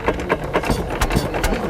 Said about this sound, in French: voilà un moteur fixe de 1903. Il fait une explosion toutes les 4-5 secondes.